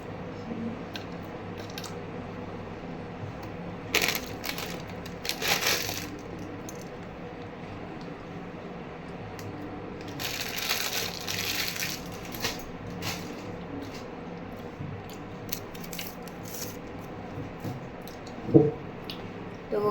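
Dry Maggi instant noodle blocks snapped by hand into small pieces: two short bursts of crisp crunching and crackling, close and fairly quiet, separated by a calm stretch.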